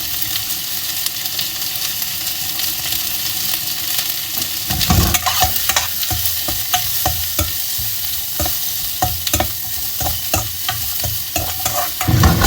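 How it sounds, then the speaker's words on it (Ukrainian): Onion and vegetables fry hard in hot oil for chao mifan, a steady loud sizzle broken by repeated scraping stirs in the pan, with the strokes coming more often in the second half. "Я думаю, почнемо почнемо ми з овочів, тому що там цибулька і щоб воно аж кварчало."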